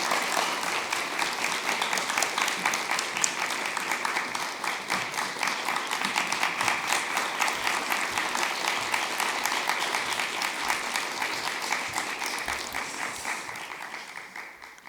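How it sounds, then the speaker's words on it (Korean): A church congregation at a youth Sunday service claps warmly to welcome the pastor to the pulpit, a dense sustained applause that holds steady before slowly tapering off near the end. "우리 목사님 올라오실 때 따뜻한 박수로 목사님 환영하도록 하겠습니다"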